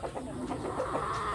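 Chickens cluck in a farm setting, a few birds making soft, irregular calls close by over a faint steady background.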